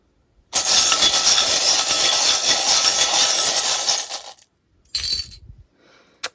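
Charms are cast for a charm reading, rattling in a loud, dense clatter of small metal and glass pieces for about four seconds, followed by a shorter second shake and a faint final clink.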